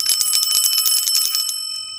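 A small brass bell rings in rapid trills like an old-fashioned telephone, its bright metallic chimes ringing loud and close, then fading.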